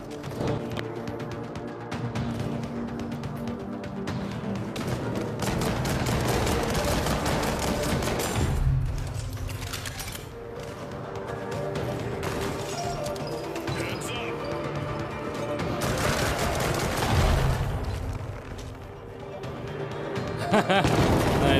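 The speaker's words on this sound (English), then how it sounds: "Grenades going off everywhere" Grenades exploding amid gunfire in the After the Fall video game's Tundradome mode, a dense, loud and continuous barrage of booms and shots with swelling peaks, while a voice talks now and then.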